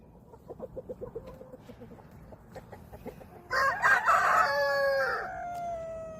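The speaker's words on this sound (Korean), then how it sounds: "수탉들이 제법 커가지고" Soft clucking with a few short calls, then a loud rooster crow rings out near the end, drawn out and close.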